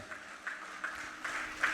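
An audience breaks into applause to welcome a guest at a women's category event in the UAE, with scattered clapping swelling in bursts that rise and fall, moderately loud throughout the short stretch.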